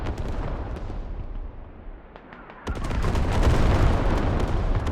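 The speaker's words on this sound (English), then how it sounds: "The double arty barrage" A double artillery barrage from both commanders pounds a mountain firebase in a video game, with deep booming blasts crashing in loud and close after a brief lull, rolling on in heavy overlapping explosions.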